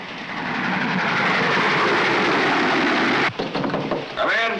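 Passenger train running on rails, a continuous loud rumble with rhythmic clickety-clack from the wheels, broken by a sudden drop near the end as a door or passage briefly changes the sound, with a faint voice toward the close.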